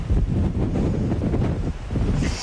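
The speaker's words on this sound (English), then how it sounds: "you can feel it's pretty windy out here" Strong storm wind buffeting the microphone outdoors, a steady low roar with gusty swells and brief dips, loud and close.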